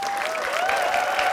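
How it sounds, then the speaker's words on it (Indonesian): A crowd applauding three children who are contestants on a word-finding game show, a thick, continuous wash of clapping with a steady sustained tone running beneath it. "Beri tepuk tangan yang hangat untuk ketiga peserta kita."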